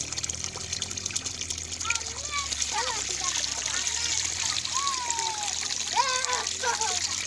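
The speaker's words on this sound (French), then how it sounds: "je vais puiser un peu d'eau pour boire" Water being drawn from a natural spring, a steady trickling and splashing flow close by, continuous throughout while someone talks over it.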